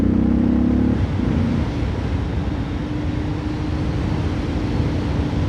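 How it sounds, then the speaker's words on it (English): A Porsche 911 or Audi R8 drives along a summer country road, giving a loud, steady engine and road drone from inside the car, with a brief tonal engine note at the start that then evens out. "So we're gonna drive on this awesome country road again."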